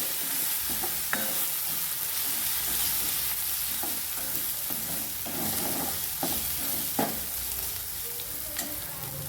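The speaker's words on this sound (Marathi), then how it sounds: "छान तेलामध्ये परतून घ्यायचे कारण हिरव्या मिरचीचा आणि लसणाचा जरा कच्चापणा जातो" Green chilies and garlic sauté in oil with a continuous bright sizzle and occasional spoon clicks against the pan as they are stirred, close up and without speech.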